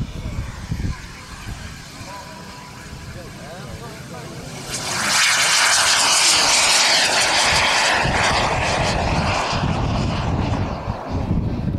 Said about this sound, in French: Décollage du Hawk